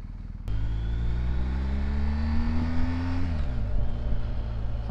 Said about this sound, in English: It's just a lovely, like, burbly induction roar.